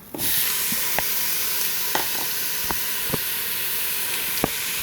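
Ham added to a Ninja Foodi pot on medium heat, with steady sizzling frying hiss throughout and scattered light scrapes and taps of stirring.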